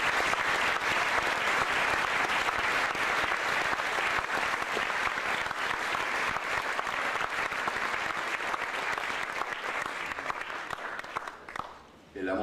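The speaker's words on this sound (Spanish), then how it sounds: "Un aplauso para Turing." Audience at a Galeano book presentation breaks into sustained, dense applause that holds steady and loud for about twelve seconds before fading briefly at the end.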